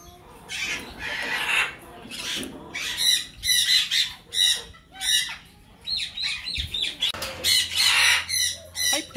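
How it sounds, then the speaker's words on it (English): A Vasa parrot in a cage gives a long run of harsh, rasping squawks in uneven bursts, loud and close, with short pauses between calls. "So here we got a Vossa parrot"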